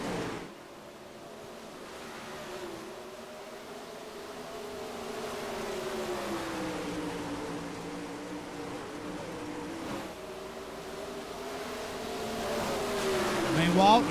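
360 sprint cars roar around the Eldora dirt track, engine pitch rising and falling through the turns in a continuous distant-to-near drone, with a commentator's voice talking over the racing.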